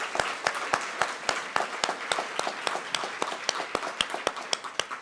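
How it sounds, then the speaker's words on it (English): An audience at a hospital staff recognition celebration claps for award recipients, a few distinct hands beating in a steady, fairly quick rhythm over a soft bed of scattered clapping. "So another round of applause for them as well."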